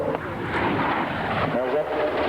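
Aircraft engine roaring steadily through a roll manoeuvre at an RAAF anniversary air show at Point Cook, a continuous broadband drone heard at moderate distance with a commentator talking over it.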